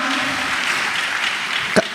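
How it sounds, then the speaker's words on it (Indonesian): An audience claps in a dense, steady burst of applause, with a sharp knock near the end. "Kita kasih tepuk tangan lagi."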